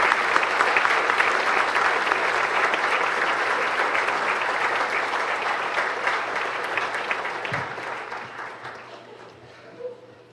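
A sustained round of crowd applause, dense and even, gradually thinning and fading out toward the end.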